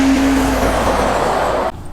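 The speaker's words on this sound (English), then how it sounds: "we've got the SEPA with the 7-speed DSG gearbox, which you're going to see now having a drive-by past us" A Golf Mk6 R swapped with RS parts and a 7-speed DSG gearbox, with RS brakes, RS wheels and a widened body, drives past loud and close, its engine note steady before cutting off sharply near the end.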